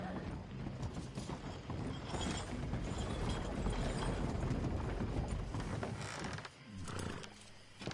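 Horse hooves clip-clop in the video game Red Dead Redemption 2, a steady rhythmic clatter with mechanical rattling over a dense in-game background, briefly dropping away near the end.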